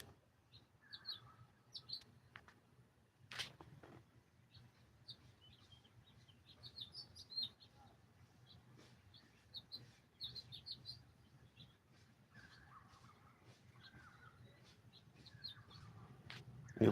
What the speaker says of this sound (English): I have a lot of birds.